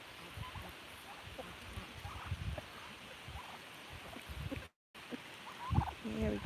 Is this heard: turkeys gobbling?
yes